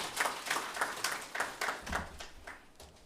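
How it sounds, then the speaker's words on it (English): Applause from an audience at an official induction workshop, a short burst of clapping at moderate distance, fairly faint and steady with no talk over it. "Can we give him once more a round of applause?"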